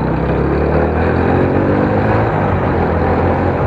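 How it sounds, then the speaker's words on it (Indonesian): A Yamaha Vega R motorcycle engine runs with a rough, gritty, steady drone. It is loud and close, with no talking over it. "suara mesin yang kasar"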